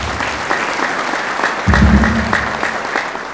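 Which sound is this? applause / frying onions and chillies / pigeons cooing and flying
applause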